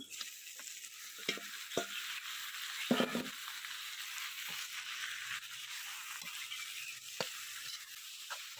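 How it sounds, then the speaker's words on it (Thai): Chicken and chili sizzle steadily in a hot pan while a utensil scrapes and stirs now and then, the dry-frying hiss constant and fairly close. "พริกหอมแล้วไก่ลงไปคั่วครับ"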